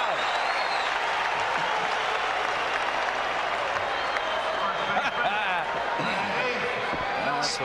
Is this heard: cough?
no